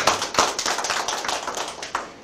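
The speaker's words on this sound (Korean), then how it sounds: "박수 한번 여기서 한번 살짝 치겠습니다" Audience at a lecture on the mugunghwa flower gives a short, light round of applause, with brisk close claps in quick succession and no talking over them.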